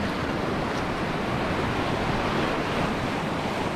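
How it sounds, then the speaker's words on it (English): Ocean waves wash in over rocks beneath the Seven Sisters cliffs in Sussex, a constant loud roar of surf and spray blended with gusty wind rumbling against the microphone. "Waves coming in, getting wet."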